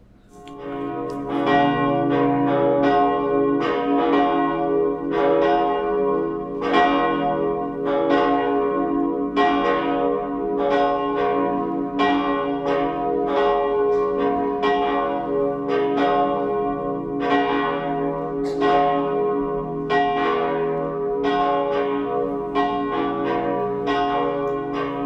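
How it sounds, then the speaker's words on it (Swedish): Church bells ring continuously during a Sunday high mass in Sweden, their overlapping strikes sounding in a steady rhythm with long resonant tails, loud and unaccompanied by voices. "Låt oss nu lyssna till klockringningen."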